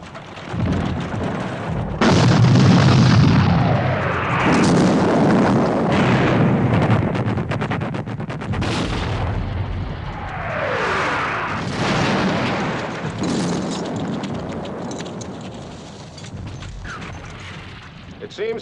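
Heavy artillery cannon fire in a Waterloo battle scene from the 1970 film, deep booming blasts and rolling rumble with horses and battlefield commotion, swelling and fading across the scene while voices speak through it.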